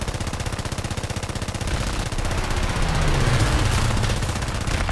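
Aircraft machine guns firing in War Thunder air arcade from a P-26B-35 fighter, a loud continuous rapid burst of gunfire with steady rattling rhythm throughout, engine drone beneath.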